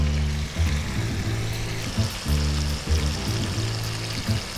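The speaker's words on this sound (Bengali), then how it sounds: "বেশ কড়া করে মাছগুলো ভেজে নেব।" Bhetki fish pieces fry in hot oil with a dense, continuous hissing sizzle close up, steady and fairly loud, with low bubbling pulses and no voices.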